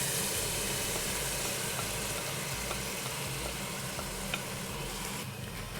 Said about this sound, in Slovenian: Ko česen zadiši, dodamo gobe.